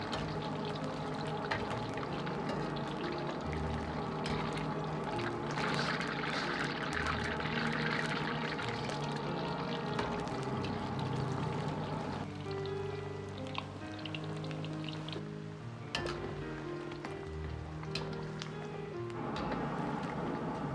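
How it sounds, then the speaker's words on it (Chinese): Battered potato pieces deep-frying in a wok of oil over medium heat, a steady dense sizzle and crackle running continuously throughout, close and fairly loud with no talking. "保持中火炸至2分钟左右，把土豆炸熟炸透"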